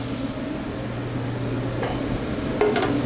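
Chopped garlic and onion sizzle gently in olive oil in a pan, a steady soft frying hiss over a low kitchen hum, with a brief utensil clink near the end.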